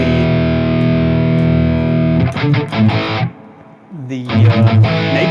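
High-gain distorted electric guitar through a Valeton GP200 multi-effects unit: a sustained saturated chord rings for about two seconds, then choppy palm-muted riffing with a brief pause before aggressive playing resumes, loud and close.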